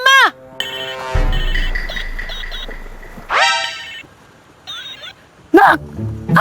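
A phone ringtone plays in a home as a mother calls, with repeated bright melodic tones and brief gaps between them, mixed with children's and adults' voices talking over it.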